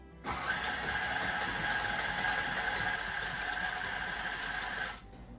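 A stand mixer kneads vegan hot cross bun dough with fruit mixed in, giving a steady mechanical whir that starts abruptly, runs evenly for several seconds and then cuts off, close by with no talking.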